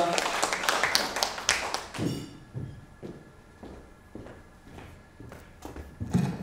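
Audience applause at a Korean political news outlet's 22nd anniversary ceremony as a lawmaker is called to the stage: dense clapping for about two seconds, then thinning to scattered individual claps.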